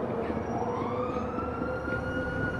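A police siren wails in GTA V with the LSPDFR mod, a steady rising and falling tone over low engine and traffic rumble, moderately loud with no talk.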